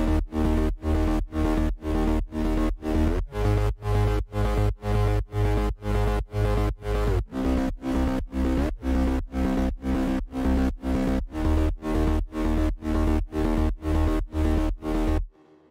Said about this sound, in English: I decided to go with an aggressive rolling bass to add dynamics to the drop